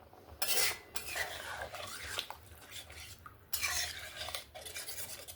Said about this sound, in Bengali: জলটা দেওয়ার পরে ভালো করে 2-4 বার নাড়িয়ে নিলাম।